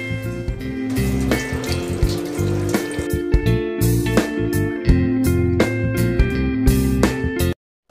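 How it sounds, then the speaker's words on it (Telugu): Plain tap water runs while mushrooms are washed in it, a steady splashing and rushing stream heard close and fairly loud for most of the clip before cutting off abruptly near the end. "ఈ మష్రూమ్స్ ఒకసారి ప్లెయిన్ వాటర్తో వాష్ చేసుకుందాం"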